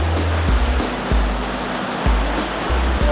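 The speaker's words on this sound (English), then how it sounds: "we just like to go at this kind of little waterfall bit" Loud, steady rush of falling water close by, a dense roar with low rumbling surges and no voices.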